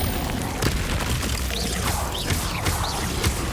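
A fire spell cast in the Hogwarts Legacy game bursts out as a few booming whooshes amid a busy, dense wash of game effects, with repeated flaring bursts across the stretch.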